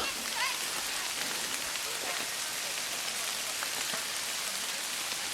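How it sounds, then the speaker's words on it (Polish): Steady rain falls throughout in the Bieszczady mountains of Poland, a dense wash of patter on surfaces with scattered heavier drops; no talking. "Jak słychać, pada."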